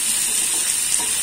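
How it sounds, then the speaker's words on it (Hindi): Onions frying in a pan after mustard seeds and cumin, salted to soften, for a bhindi (okra) dish: a steady, close hiss and sizzle that holds evenly throughout with no talking. "तो राई जीरा डालने के बाद हम प्याज डालेंगे"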